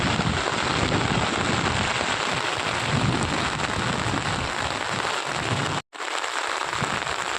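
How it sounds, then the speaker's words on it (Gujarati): Heavy monsoon rain pours steadily over farm fields in Banaskantha, a loud, dense, continuous hiss of downpour with a momentary dropout near the end. "વરસાદની આવવાનો તો જુઓ"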